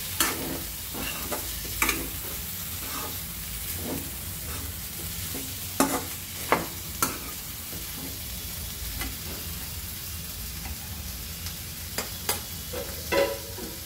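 Chopped potato sautéing in a pan for spicy Maharashtrian misal, with steady sizzling and repeated scraping stir strokes, clear and close with no talk.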